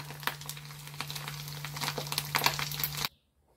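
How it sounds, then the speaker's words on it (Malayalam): Coconut pieces fry in hot coconut oil with a dense, continuous crackling sizzle and scattered pops, close and fairly steady, stopping abruptly near the end. "ആദ്യം നമുക്ക് തേങ്ങാക്കൊത്തിട്ടൊന്ന് വറുത്തെടുക്കാം"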